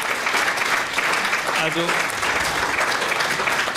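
A crowd at a political campaign rally in Berlin applauds with dense, continuous clapping, loud and close, and a few voices call out beneath it.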